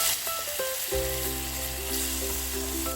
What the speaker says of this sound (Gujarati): જે ટમેટાની આપણે ગ્રેવી બનાવી હતી એ આપણે ગ્રેવી નાખી દઈશું, એ થોડો ગલાવી નાખશું